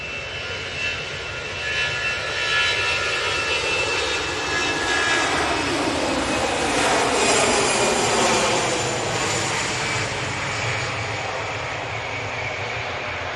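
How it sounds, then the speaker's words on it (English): An EasyJet airliner's jet engines roar nearby at an airport, building gradually from a lower rumble into a loud, sustained whine and then holding steady. "And we've got this EasyJet now"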